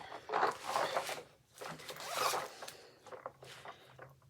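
A pink zipper foil bag is pulled open in a run of crisp, crinkly rips and rustles, loud and close, arriving in several bursts with brief pauses and no talking.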